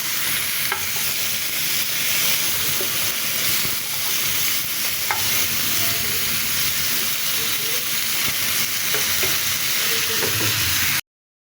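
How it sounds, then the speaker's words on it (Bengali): Marinated chicken tikka pieces with ginger-garlic paste sizzling and frying in a pan, a steady hiss with occasional stirring and turning clatters, fairly close. "তো এই 2 পিস আমি ভেজে নিচ্ছি এভাবেই"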